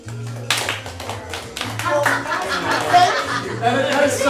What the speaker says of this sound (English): We got a couple of claps.